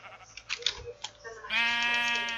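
A single sheep bleat from the video game Minecraft with an Avatar mod rings out with a wavering, buzzy tone, preceded by a few soft clicks and taps.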